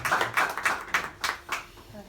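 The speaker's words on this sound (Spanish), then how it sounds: "Un aplauso." At a presentation of the poetry book "Bagatelas" by Carlos Javier Cebrián, a handful of distinct, evenly spaced claps sound nearby, sparse and rhythmic rather than a full roar, then fade out.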